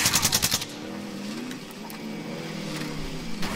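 Rapid pistol shots in a video game crack out in a quick burst of about eight at the start, followed by a steady engine drone from a quad bike, with no speech.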